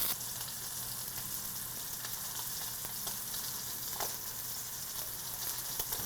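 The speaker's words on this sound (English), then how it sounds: "we're going to do a quick sear on the lamb" Rack of lamb searing in a hot pan, a steady quiet hiss and crackle with a few faint pops, heard close and without speech.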